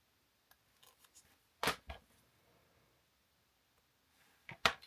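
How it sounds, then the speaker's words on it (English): Scissors snip through a plastic part during a 1950s–60s model car build: a few light clicks, then two crisp, close cuts and a final sharp snip after a quiet pause, with no talking. "We'll give it another little snip."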